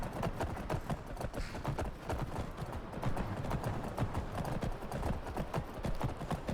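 Horse hooves in the video game Skyrim clop in a fast, steady rhythm throughout, loud and close, like a horse trotting or galloping without pause.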